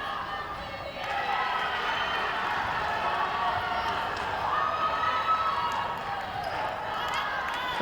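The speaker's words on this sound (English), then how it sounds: "Crowd delighted when they get on the screens" A crowd at an indoor youth netball match between Botswana and Samoa cheers and shouts steadily, with court noise and an announcer's voice mixed in throughout.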